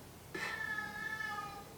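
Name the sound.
cat meowing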